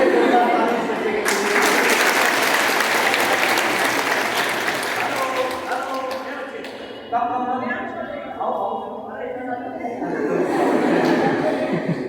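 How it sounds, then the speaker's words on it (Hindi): Schoolgirls at a government girls' inter college in Kandhla clap in a loud, dense burst for several seconds, then it fades into scattered claps, giggling and chatter as an adult voice speaks over the room. "दूसरी ताली है ओम ओम हा के नाम पे, बहुत अच्छी ताली है बेटा"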